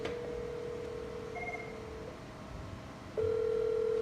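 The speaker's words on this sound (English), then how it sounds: "So all the phones are dialing out" Office VoIP desk telephones dialing out together in a call centre, giving a steady electronic tone that pauses, brief higher beeps, then a louder sustained tone resuming near the end, with no talking.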